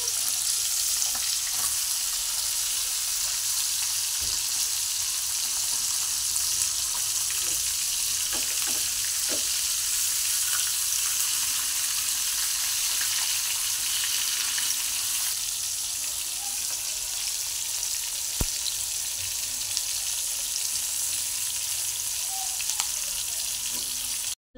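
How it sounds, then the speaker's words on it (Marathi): Bangda mackerel frying in a pan, a continuous close, bright sizzle holding steady throughout, with a few faint clicks and scrapes as the fish is turned. "चांगले भाजू देऊया। मासे पलटी करून घेऊयात।"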